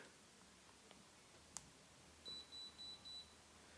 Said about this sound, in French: Là, le bip.